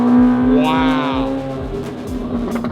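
A supercar engine revs loudly nearby with rising and falling whine and rapid exhaust pulses, while someone talks excitedly over it.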